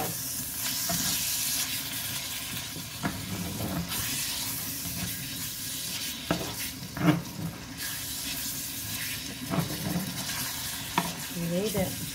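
Pork fried rice sizzles and hisses steadily in a hot pan, with occasional scrapes and stirring knocks over about twelve seconds, close and fairly loud.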